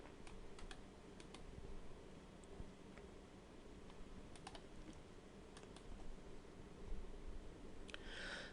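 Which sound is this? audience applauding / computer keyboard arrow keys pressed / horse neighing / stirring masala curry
computer keyboard arrow keys pressed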